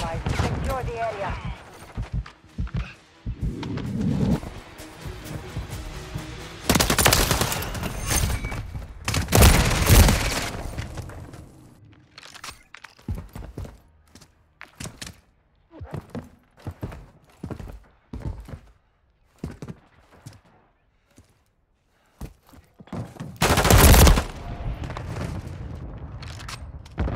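Heavy gunfire in Call of Duty: Modern Warfare 3 hardpoint matches on a PS5, with loud bursts of automatic shots and booming blasts coming in irregular clusters between quieter gaps, mixed with in-game radio voices.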